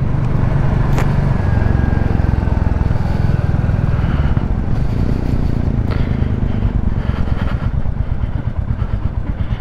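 A Royal Enfield Classic 350 motorcycle rides along with a loud, throbbing single-cylinder engine note over heavy wind rush, close to the microphone and without talk.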